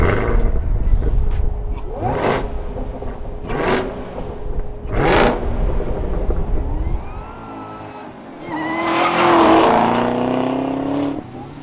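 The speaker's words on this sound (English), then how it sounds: "the amount of blower whine that you can actually hear in this thing" A supercharged 2020 Chevrolet Camaro ZL1 1LE manual engine rumbles and revs with several sharp throttle blips, then a rising blower whine and roar as it accelerates, close and loud.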